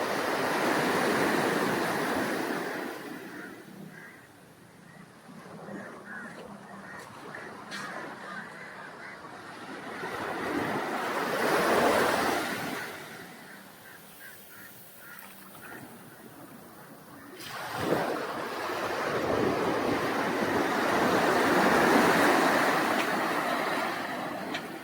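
Ocean surf washes in broad swells at Kappad Beach, Kozhikode, rising and falling every several seconds with steady rushing noise in between; no voices.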